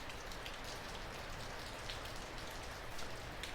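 Heavy, gusty rain falls in Northern California, a dense continuous hiss of drops pattering on surfaces, steady and fairly close with slight surges, no voices.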